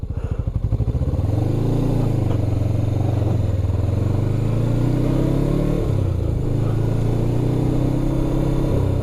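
A motorcycle on a sandy evening trail idles and chugs close by, then revs up as the rider shifts gears. Its engine note rises and dips and holds a loud, steady low rumble throughout.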